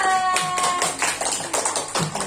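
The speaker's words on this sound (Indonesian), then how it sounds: "Tepuk tangan untuk Karen dan kelompok 2." Classroom group clapping for a pupil and her group during a school teaching session, a short burst of several rhythmic claps from children at close range, with faint voices mixed in.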